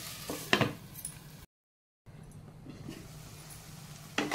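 Potatoes cook in a pan over a medium gas flame with a soft sizzle, broken by a few sharp clinks and scrapes of stirring with a utensil and a brief silent gap.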